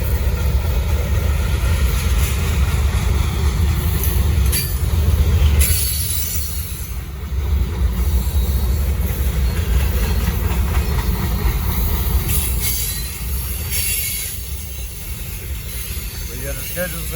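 A Norfolk Southern freight train rumbles past close by in Gaffney, South Carolina, wheels clattering and squealing over the rails in a long, steady roar.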